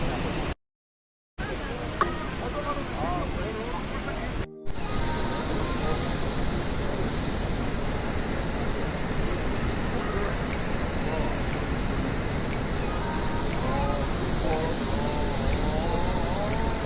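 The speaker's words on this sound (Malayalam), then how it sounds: "അതിരപ്പള്ളി വെള്ളച്ചാട്ടമാണ്." Athirappilly waterfall in Kerala, a constant broad roar of rushing water heard from nearby, steady and loud, briefly cut by a short gap near the start.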